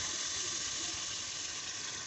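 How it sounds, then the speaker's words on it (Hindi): Water poured into a hot pan of frying potatoes for a potato curry gives a steady, even hiss and sizzle throughout, close up and without talk. "यहाँ पर पानी ऐड करेंगे।"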